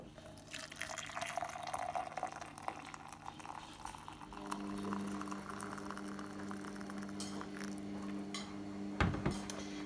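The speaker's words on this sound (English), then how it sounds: "add the stock cube into the glass and then fill it with boiling water" Boiling water pours steadily into a glass over a stock cube, a hissing, bubbling trickle, with a short clink near the end.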